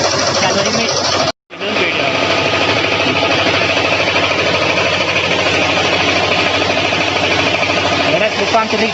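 A laboratory engine running steadily during a fuel consumption test, a dense continuous mechanical drone with rapid vibration, briefly cut off near the start and then resuming at constant loudness.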